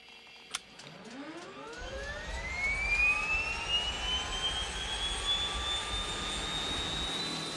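A propeller aircraft engine starts on port ignition: a sharp click, then a whine that climbs steadily as the engine spools up into a loud, sustained roar close by, with no voices.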